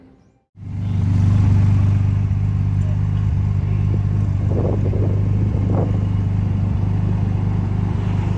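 A Porsche sports car engine, a 2021 model on a showroom floor, starts up after a brief silence and holds a loud, steady idle close by, with a couple of light revs partway through.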